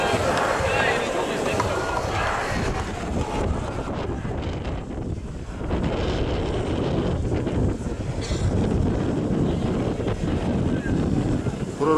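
Strong wind buffets the microphone at an outdoor rally in Kharkiv, making a loud, continuous rumbling roar across the whole stretch, with gusts swelling and easing.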